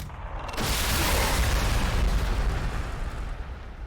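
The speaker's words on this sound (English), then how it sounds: "let's throw some more frag in" A frag grenade explosion in the Warhammer 40,000: Sanctus Reach strategy game, a sudden heavy boom after a half-second of quiet, followed by a loud rumbling roar that slowly fades.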